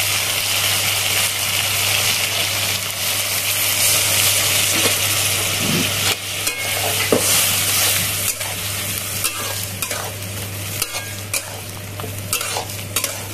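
Ridge gourd simmering in a pan with a little water and ground poppy seed paste, a steady low sizzle and bubbling broken by occasional scrapes and clinks of a spoon, close and alone with no voices.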